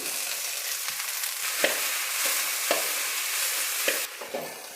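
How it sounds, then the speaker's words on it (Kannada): Chopped onions and curry leaves frying in a pan for okra fry, a soft continuous sizzle broken by several scraping stirs of a spatula, no talk. "ಎರಡು ಈರುಳ್ಳಿ ಕಟ್ ಮಾಡಿರೋ ಸಣ್ಣ ಸಣ್ಣದಾಗಿ ಸೇರಿಸ್ಕೊಳ್ತಾ ಇದ್ದೀನಿ ಇದ್ರ ಜೊತೆಯಲ್ಲೇ ಫ್ರೈ ಮಾಡ್ಕೊಳ್ತೀನಿ"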